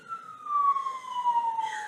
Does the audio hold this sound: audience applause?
no